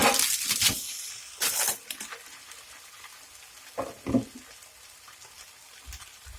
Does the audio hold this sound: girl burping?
no